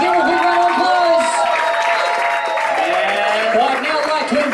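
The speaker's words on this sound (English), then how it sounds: "give a big round of applause." Wedding guests applaud and cheer, with clapping, whoops and raised voices blending into a lively crowd roar that holds steady across the moment.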